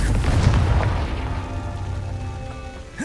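Confringo, an explosive fire spell in the Hogwarts Legacy video game, goes off as a loud, boomy burst at the start, then fades into a rumbling, crackling tail with a faint sustained tone.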